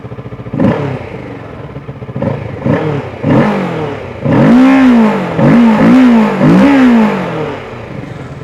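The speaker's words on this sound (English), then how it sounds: "The Ninja 650 also gets an underbelly exhaust, and this is how it sounds like." A 2023 Kawasaki Ninja 650's underbelly exhaust barks and revs in several short bursts, rising and falling in pitch, loud and close, then held in repeated throttle blips.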